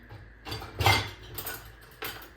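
A fork clinks against the side of a bowl while stirring a mixture of oil, water and egg, a few soft scraping taps spaced unevenly, faint and close.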